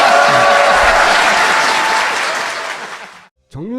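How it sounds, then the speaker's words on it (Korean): A crowd claps in sustained applause that fades out after a few seconds, then a voice briefly begins speaking. "박수 부탁드립니다."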